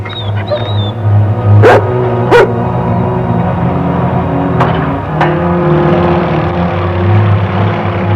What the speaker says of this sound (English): and Roy's wonder dog, Bullet